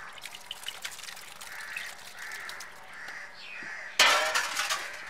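A close, brief hiss of water sprayed onto sprouting wheatgrass in a home kitchen garden bursts out near the end, after a quiet stretch with faint birds cawing in the background.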